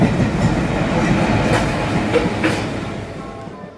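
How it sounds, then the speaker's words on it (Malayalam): A train arriving at a railway station rumbles close by with steady low-frequency roar and faint rail clatter, gradually fading toward the end. "കൃത്യസമയത്ത് തന്നെ എനിക്ക് പോകാനുള്ള ട്രെയിൻ എത്തി കേട്ടോ"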